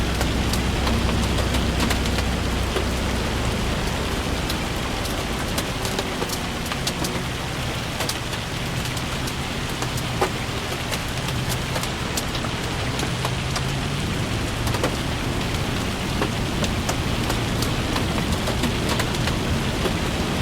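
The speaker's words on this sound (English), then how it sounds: "That is real rain. Gordon Bennett is that rain." Heavy, steady rain in Farming Simulator 25, a dense, loud wash of drops with scattered sharper patters throughout and a low rumble beneath, with no voices.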